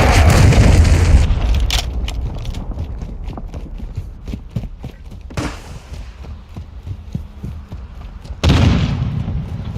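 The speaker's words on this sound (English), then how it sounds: "Friendly cruise missile inbound." Cruise missile killstreak in Call of Duty: a heavy explosion opens, then a stretch of rapid thuds and clattering gunfire, and a second loud blast hits near the end.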